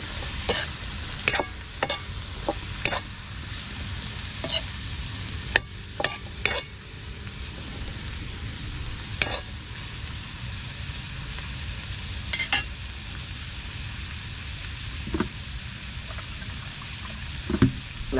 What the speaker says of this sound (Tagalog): Tapos po ilalagay na natin itong talong.